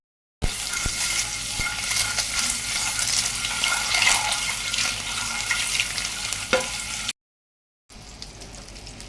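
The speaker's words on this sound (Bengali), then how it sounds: "এখন তাওয়ার উপরে বিরিয়ানিটা হয়ে যাবে। একদম লো আঁচ করে দিলাম।" Biryani heats through on a flat tawa over very low flame, giving a steady, close crackling sizzle with occasional stirring scrapes, briefly cut to silence before the frying resumes.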